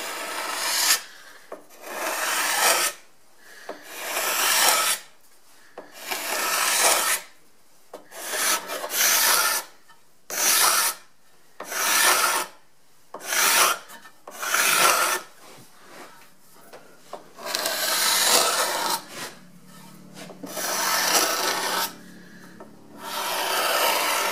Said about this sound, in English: maybe grab another scraper here and go this way